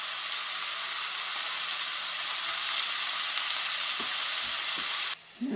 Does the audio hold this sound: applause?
no